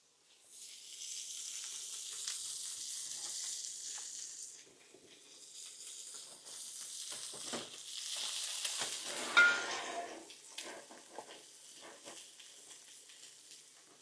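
Pork chops marinated overnight in brine sizzle steadily in a pan, a continuous crackling hiss with scraping stirs and a brief louder stir burst midway, heard up close with no talking.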